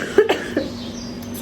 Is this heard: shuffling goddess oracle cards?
no